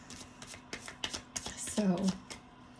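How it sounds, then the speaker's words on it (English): Tarot cards being shuffled by hand, a series of soft riffling flicks and taps that build into a denser burst of card noise, with a voice murmuring briefly over them. "See, when I'm shuffling, if the card doesn't fall out"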